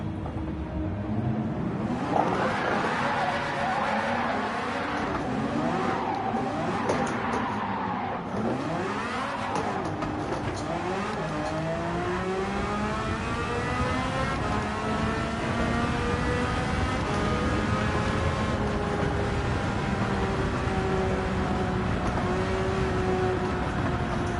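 Several racing cars in Gran Turismo 7 rev and shift through gears, engine notes sweeping up and down in pitch, with a loud engine running close behind in a continuous, busy drone.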